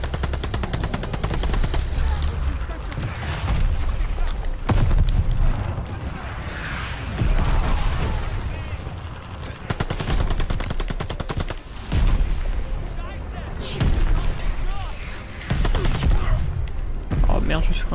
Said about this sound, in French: Merde, il y a des gens en plus qui nous tirent dessus.